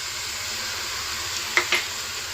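Mutton liver being added to a hot pan for a sukha dish, a steady frying sizzle with two sharp louder crackles near the end.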